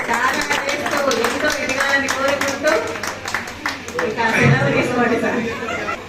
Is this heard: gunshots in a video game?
no